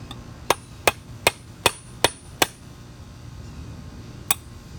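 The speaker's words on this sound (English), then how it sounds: "I have a giant nail and a hammer, and I'm just going to basically knock a hole through there" Seven sharp, evenly spaced hammer blows drive a large nail through a metal tray, the first six in a quick steady rhythm and a single final strike after a pause, loud and close in a quiet room.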